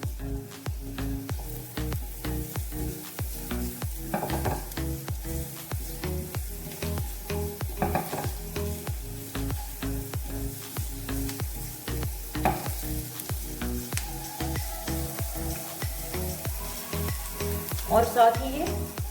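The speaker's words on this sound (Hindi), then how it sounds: "मैं ये प्याज ऐड करने जा रही हूँ। इन प्याजों को सौते करना है।" Chopped onions sauté in about two tablespoons of oil in a pan for a Pakistani-style potato and egg Spanish omelette, with a steady close sizzle broken by repeated scraping stirs throughout, and no talking.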